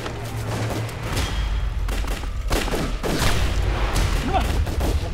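Rifle and gun volleys in a battle scene from a Chinese war drama about an early special forces unit, with rapid bursts and booming shots over a low rumble, and shouting voices mixed in.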